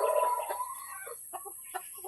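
A chicken clucks repeatedly at close range in a series of uneven, throaty bursts over a constant high background whine.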